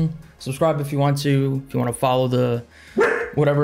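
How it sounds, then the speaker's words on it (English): A pet dog barks in short bursts close to the microphone, mixed in with someone talking over it indoors. "Sorry about my dog."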